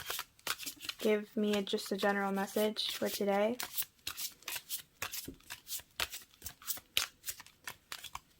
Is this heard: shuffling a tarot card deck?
yes